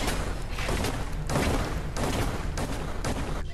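Sustained gunfire in Fallout 4, during the Far Harbor add-on, with loud rapid bursts of shots repeating in quick succession, close and dense throughout with brief dips between volleys.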